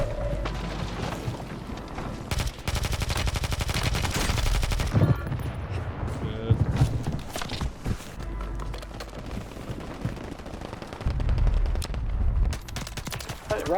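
Automatic weapons fire in Call of Duty's Rebirth Island battle royale, with a Striker 9 and DG-58 LSW: dense, continuous bursts of close, loud shots and scattered distant reports. A voice talks over the fighting.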